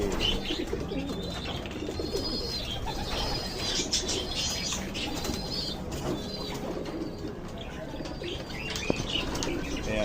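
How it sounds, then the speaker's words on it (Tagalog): Pigeons coo and rustle in a noisy loft, with wing flaps and scattered chirps continuing steadily throughout. "Ayan, mga alaga kong kalapati."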